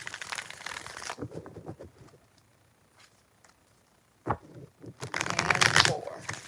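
Tarot cards are shuffled in two close bursts of rapid papery flutter, separated by a quieter stretch of scattered light card taps and handling clicks.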